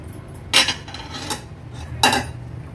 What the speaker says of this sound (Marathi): 5 ते 6 मिनिटं झाले, झाकण काढून बघूया आपण